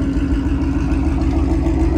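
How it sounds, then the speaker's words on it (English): A Ford Shelby GT500 with a Corsa Extreme exhaust idles close by in a steady, deep, burbling rumble with a fast low pulse and no changes in revs. "Just listen to this idle."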